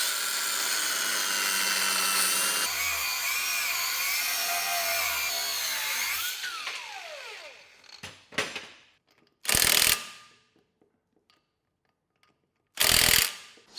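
A power tool cuts off a car steering arm: a sustained loud, high whining grind with shifting pitch for several seconds, then winding down, followed by two separate short bursts of cutting.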